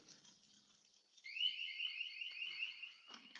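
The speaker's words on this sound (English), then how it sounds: "One of my perimeter alarms are going off." A house perimeter alarm sounds faintly, a steady high electronic warble that swells louder partway through and holds, with a soft background murmur and no clear speech.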